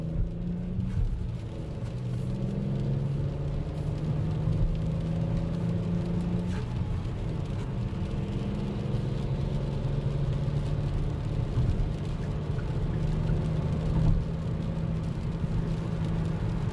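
Hyundai Kona 1.0 T-GDI cruising on an expressway, a steady, fairly quiet engine hum and road rumble with gentle shifts in pitch.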